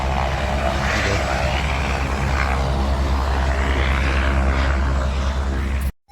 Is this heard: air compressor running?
no